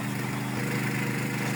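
A well drilling rig runs steadily in Russia, its engine droning continuously while water is pumped down the drill stem, close and loud with no pauses.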